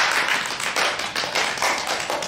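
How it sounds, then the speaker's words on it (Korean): A small group of people clap their hands together, a fast, steady, close round of applause that runs throughout with no talking. "고생했다고 박수 한번 치고 끝낼까요?"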